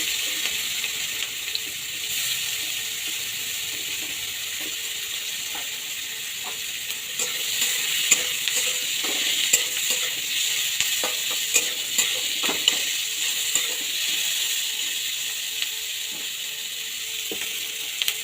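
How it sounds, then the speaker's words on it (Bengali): Chopped onions fry in hot oil with black cumin, giving a steady, close sizzle with scattered crackles and light stirring taps throughout. "আর একটু তেল দিয়ে দেব একটু কালো জিরে ফোড়ন দিয়ে দেব তার মধ্যে আমি পেঁয়াজ কুচি দিয়ে দেব"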